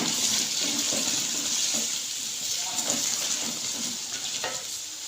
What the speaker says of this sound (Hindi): 2 से 3 मिनट जीरा मिर्च ऐसे ही फ्राई करेंगे ताकि लहसुन का कच्चापन खत्म हो जाए।